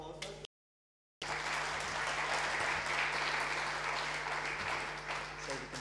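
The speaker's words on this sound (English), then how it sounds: "Can we have a round of applause, please?" Audience applause at a Social Media Day event on the Gold Coast, a steady dense clapping that fills the room for about five seconds after a brief silent gap.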